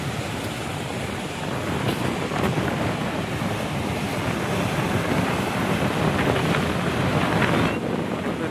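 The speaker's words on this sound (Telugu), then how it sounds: "సముద్రం" Sea waves at Tenneti Park beach in Vizag wash in as a steady, loud broadband roar with wind buffeting the microphone throughout, no talk heard.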